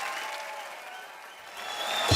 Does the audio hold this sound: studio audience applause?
yes